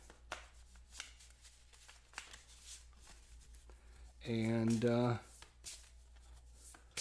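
A deck of Arkham Horror board game cards gets one quick riffle shuffle, close and crisp, lasting about a second, set among quiet handling noises and a few soft spoken words.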